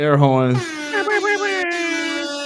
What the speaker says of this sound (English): Hold on, air horns.